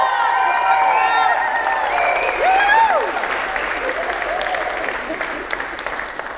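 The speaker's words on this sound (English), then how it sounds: "Let's hear a bit more of a cheer." Wedding guests cheer and applaud the couple's first kiss at a Zimbabwean, Italian and Turkish wedding in Australia, clapping mixed with whoops and high voices rising and sliding over the crowd, loud at first then easing off.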